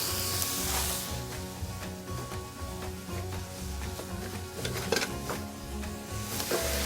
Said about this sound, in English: Now for the celery, we're just going to drop that in there too.